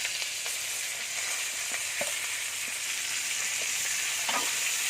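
Chinese kale stems go into a hot pan with crispy pork and sizzle steadily, with occasional stirring scrapes and clinks over a constant frying hiss.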